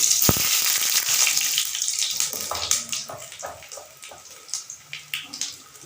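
A dried chili and nigella seeds fry in hot oil for a Bengali radish dish, giving a bright, crackling sizzle that starts strong and fades into scattered pops.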